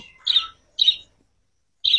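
Pet birds taken out of a farm enclosure chirp in three short, bright bursts separated by brief silences, close and clear against a quiet background.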